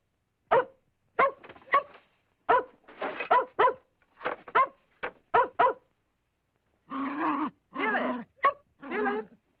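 A dog in an old radio drama barks in rapid sharp bursts, close and loud, followed by a few longer whining yelps, with no voices over it.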